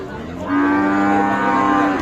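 A cow moos once, long and loud and close, at a busy cattle market selling Friesian and crossbred bulls.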